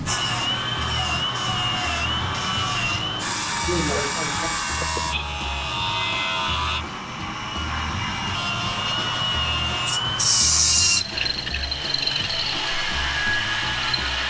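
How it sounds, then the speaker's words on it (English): A power drill whines and grinds in uneven bursts, enlarging holes in metal to 7/16 inch, with mechanical rattling and background workshop noise throughout. "I'm gonna get these drilled out to 7/16."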